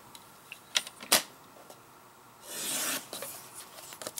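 Paper scrap is trimmed down for a handmade Valentine's card, soft close scraping and ticking sounds, then a longer swishing slide of the cutter blade through the paper, quiet and without talk.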